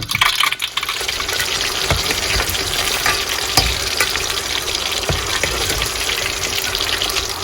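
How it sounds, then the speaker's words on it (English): Plantain frying in hot oil, a dense, continuous crackling sizzle with scattered sharper pops, close and steady throughout, with no voices. "Alright, so we have them frying."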